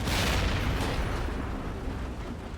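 Tank gun firing a high-explosive shell in World of Tanks on Himmelsdorf, one loud booming blast with a long rumbling decay, close and alone.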